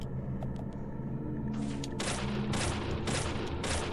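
Gunfire bursts from the video game Deadly Premonition, Xbox 360 version, crack out in quick repeated volleys over a low, steady rumble of background game sound. They grow louder and denser after a quieter opening.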